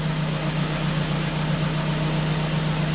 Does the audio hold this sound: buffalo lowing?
no